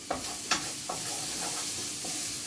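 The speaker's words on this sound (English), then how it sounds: "once you saute it, as you can see, it's turning a little bit brown" Food sautéing in a pan before eggplant goes in, a soft steady sizzle broken by a few sharp spatula scrapes and taps, heard close up with no talking.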